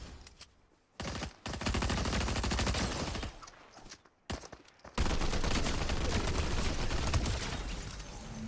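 Rapid automatic gunfire in Fortnite comes in loud, dense bursts separated by short silent gaps, then settles into a long, continuous volley of close shots.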